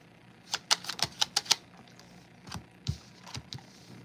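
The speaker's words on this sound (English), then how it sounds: "I'm going to shuffle these up." A Dragon Tarot deck shuffled by hand, making a quick burst of crisp, close card clicks and taps followed by a few slower, scattered snaps.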